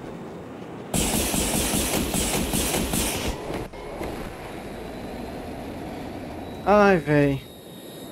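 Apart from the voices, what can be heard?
jet aircraft engines in video game Battlefield 2042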